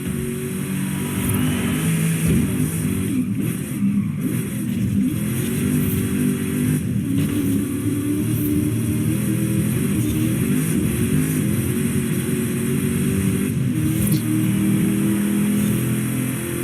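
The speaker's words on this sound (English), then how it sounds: "The engine sounds American to my ears." A steady, droning car engine in Forza Horizon 5 revs continuously at high speed during a race, with slight rises and dips in pitch, no talking.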